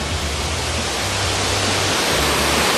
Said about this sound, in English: It's a man-made waterfall.